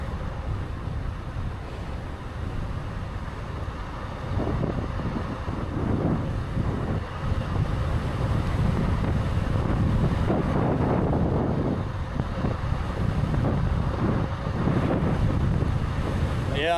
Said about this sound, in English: I can feel the wind blowing me around.